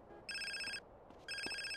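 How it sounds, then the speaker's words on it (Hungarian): A phone ringing in the video game GTA: San Andreas, two clear electronic ring bursts separated by a short pause, fairly quiet and without talk. "Úristen, az a telefon."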